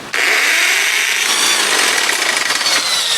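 A cordless drill whirs loudly and continuously, cranking a 1975 Johnson 4 hp outboard motor in a harsh, buzzing, sustained burst.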